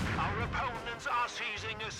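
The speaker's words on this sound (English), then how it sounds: "Or maybe I just heard mortar detonations in the distance" Distant mortar detonations in a video game battle, dull muffled booms rumbling beneath continuous spoken commentary.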